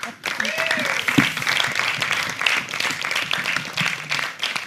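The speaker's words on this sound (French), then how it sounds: "Applaudissements encore pour" A television studio audience applauding the candidates after a debate, a sustained round of clapping that stays fairly even, with a voice briefly talking over it.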